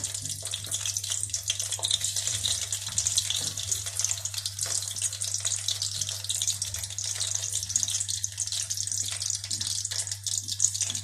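Potatoes for Kashmiri dum aloo fry in hot oil, making a dense, even bubbling hiss with crackling spatter that stays loud and close throughout.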